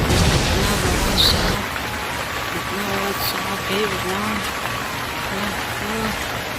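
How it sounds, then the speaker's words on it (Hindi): Heavy cartoon rain hisses loudly and steadily throughout, with a dense wash of falling drops underneath a voice speaking. "ये अचानक से बारिश का मौसम क्यों बन रहा है?"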